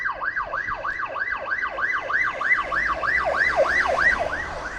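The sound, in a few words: ambulance siren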